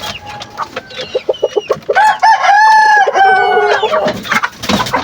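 Hens in a backyard chicken coop cluck loudly and close by, and a rooster crows in the middle. The calls are dense and overlapping, with no talking.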